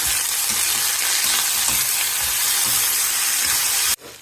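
Green chilli, frozen peas and vegetables for rava kichadi sautéing in a pan give a loud, constant close sizzle with faint stirring scrapes, then cut off abruptly near the end.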